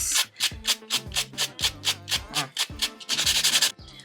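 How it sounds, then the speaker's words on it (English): A nail buffer rubs across a builder gel nail to smooth out scratches, making quick, close, rhythmic scratchy strokes at about four per second, ending in a denser flurry and then a short pause. "I'm just gonna buff it really quick just to get some of the scratches out"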